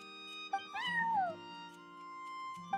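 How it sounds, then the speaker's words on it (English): A cat in Genshin Impact meows once in a long, rising then falling call, close and clear over a soft tonal game-music bed, with short chimes at the start and end. "that's my neighbor's cat"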